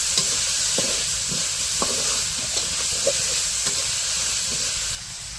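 Salted onions fry lightly in a pan with a steady, close sizzling hiss, broken by soft taps of stirring, before the sizzle suddenly drops lower near the end.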